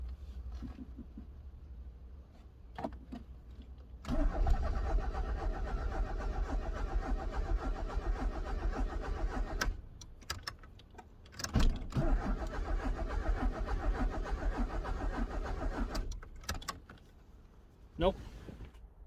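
Rover 820 car engine cranking repeatedly on a freshly fitted battery without catching, two long cranking bursts separated by short pauses, close and fairly loud, with a brief final crank near the end.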